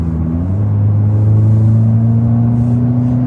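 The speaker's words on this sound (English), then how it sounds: "at any speed, that exhaust is just right there" A 2023 Hyundai Kona N sports SUV's exhaust booming loud and close as the car accelerates, a deep steady drone that shifts pitch once early on and then holds strong and even throughout.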